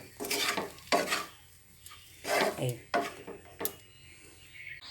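Semolina is stirred with water in a pan, giving repeated scraping, sloshing strokes with soft utensil knocks at an irregular rhythm, close and moderately loud.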